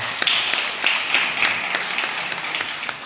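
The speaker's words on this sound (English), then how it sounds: "I think let's give them a round of applause." Round of applause from attendees at a Harare municipal gathering, a crowd of hands clapping steadily with some sharper individual claps standing out, moderately loud.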